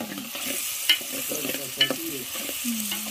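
Tomato frying and being stirred in a pan for a traditional Latur-Ausa style breakfast dish, with a steady sizzle and a few sharp utensil scrapes and knocks against the pan, close and alone without talk.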